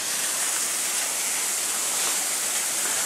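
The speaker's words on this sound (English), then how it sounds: "The ice fountains of the Aborigine people of Aboriginia, Switzerland." A water fountain splashes in a steady, continuous hissing rush, close and even throughout with no breaks and no voices.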